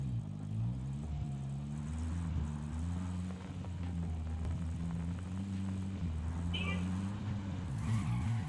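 An in-game vehicle engine drones steadily throughout while driving in Call of Duty Warzone, a low harmonic hum with slight pitch shifts, and a brief high chirp near the end.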